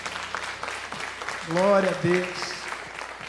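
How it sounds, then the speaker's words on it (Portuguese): A church congregation applauding during an evangelical sermon: a steady wash of clapping that swells in the middle while a voice speaks over it. "Vamos aplaudir a Jesus"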